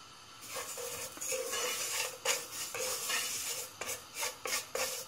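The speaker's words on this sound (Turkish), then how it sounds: "Bunu biraz kavuracağız arkadaşlar." Thin vermicelli toasting in oil in a soup pot while a spoon stirs it, giving repeated scraping strokes over a soft, steady sizzle, close and fairly quiet with no talk.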